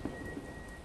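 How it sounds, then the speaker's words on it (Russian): Steady rain pours down in the video game Remember Me, a dense, even hiss of falling drops and splashes that fills the whole short moment with no voices over it. "Дождик пошел, надо же."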